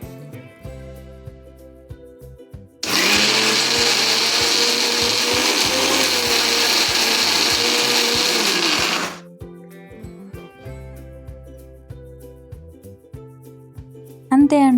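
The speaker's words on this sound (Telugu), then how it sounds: "ఇప్పుడు గోరింటాకుని వీలైనంత మెత్తగా మిక్సీ పట్టుకోవాలి." A kitchen mixer grinder pulverises henna leaves with tamarind, a loud steady whirring grind running for about six seconds between quieter stretches of background sound.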